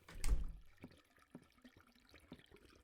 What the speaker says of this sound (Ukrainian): Кран зламався.